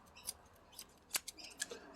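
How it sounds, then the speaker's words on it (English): Scissors snip multicolored braided fishing line in a series of sharp, quiet clicks, several crisp cuts spaced irregularly and heard up close in a quiet room. "I'm just going to grab my scissors"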